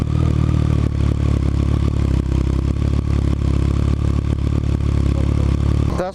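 A Yamaha FZ/MT-09 motorcycle fitted with a Delkevic full exhaust system runs loud and close, giving a dense, continuous engine roar with a rough, clattering texture that holds steady throughout before cutting off abruptly.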